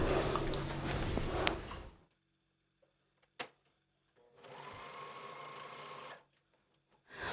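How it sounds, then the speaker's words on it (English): A sewing machine runs a twin needle or stretch stitch across fabric in two steady, close whirring bursts, separated by a quiet gap and a single sharp click. "We're going to use a twin needle, a zigzag, a stretch stitch, or even a cover stitch to sew across here."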